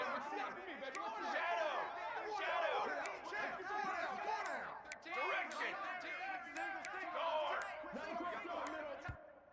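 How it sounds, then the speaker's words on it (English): A football stadium crowd at a Georgia vs Texas A&M game roars and chatters continuously, with shouts and whistles swelling across the stands; loud, dense and distant-sounding. "Listen to the crowd energy here in the early going."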